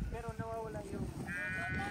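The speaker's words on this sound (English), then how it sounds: "Just looking now at the sheep." Sheep on a UK beef and sheep farm bleating in several wavering calls, near and fairly loud, over a low background murmur of people talking.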